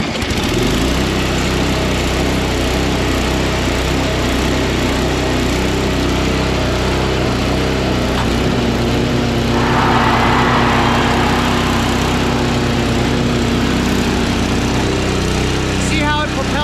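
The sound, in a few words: Craftsman 522 Tecumseh dual stage snowblower engine running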